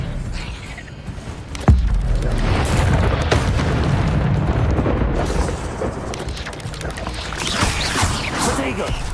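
In Hogwarts Legacy, the Expelliarmus spell lands with a sudden deep boom, then a sustained rumbling whoosh of magical energy that swells again near the end, with game sounds and voices mixed in.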